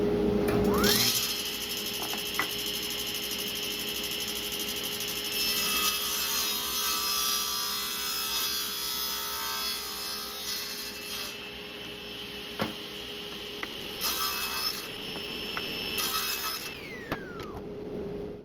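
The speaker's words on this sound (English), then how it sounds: "we want to give it a nice 45-degree cut right here" Saw cutting a 45-degree angle through a piece of zebrawood, a loud continuous buzzing rasp with a motor whine that runs nearly the whole time, with brief changes in pitch and a few sharp ticks near the end.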